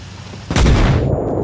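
A 120 mm tank cannon fires once in the Arma Reforger video game: a sudden, loud, close blast followed by a long, heavy rumbling tail, with no voices.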